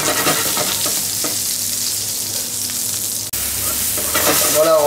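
Eggplant slices fry in a skillet with a loud, continuous sizzle and crackle, broken by a brief dip as the pan is handled, with no talking.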